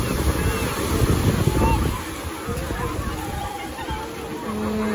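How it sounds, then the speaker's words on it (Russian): Sea waves wash onto a resort beach at Kabardinka, a broad rushing surge with wind buffeting the microphone, then a calmer wash as voices murmur nearby. "смотри, какие волны"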